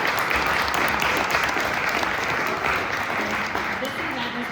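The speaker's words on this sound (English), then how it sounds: "Let's hear a round of applause for our panelists." Audience applause for panelists at the Nextwave 31 Under 31 Panel, a steady, full roar of clapping from a room of people, loud and continuous throughout with faint voices beneath.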